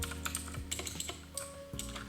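Fingers type quickly on a computer keyboard, a close, busy patter of plastic key clicks in uneven bursts with brief pauses between them.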